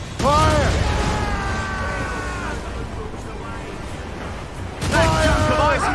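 Ship cannons boom in a naval battle in Assassin's Creed Rogue, a loud volley of blasts at the start and another near the end, with shouted orders and rumbling sea and hull noise between.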